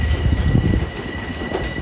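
A Long Island Rail Road train rolls into Jamaica station, a steady, loud rumble of wheels and rail with a faint high tone running through it.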